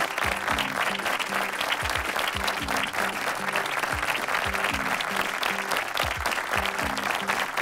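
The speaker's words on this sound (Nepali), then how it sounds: "जोरदार ताली" Audience applause at a Nepali music show in honour of a singer, steady dense clapping that fills the whole stretch with no one speaking over it.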